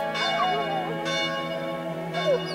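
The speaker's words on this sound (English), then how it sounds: "bells began to chime. Glorious ringing filled Greccio" Church bells ring out in repeated strikes, their long tones overlapping and ringing on, clear and fairly close.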